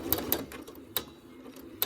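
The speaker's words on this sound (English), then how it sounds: "I'm going to sew from where my needle is to the corner" A home sewing machine stitches fabric toward the corner of a small quilted mug rug, giving a few short, quiet bursts of rapid mechanical clatter separated by brief pauses.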